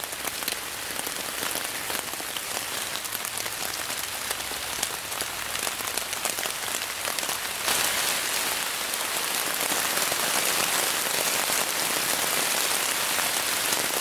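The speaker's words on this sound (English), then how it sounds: "now that rain's really starting to come down" Heavy rain pours steadily onto a tarp shelter in the woods, a dense, constant hiss of drops drumming close by that grows slightly louder partway through, with no voices.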